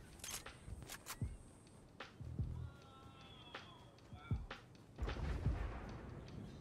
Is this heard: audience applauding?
no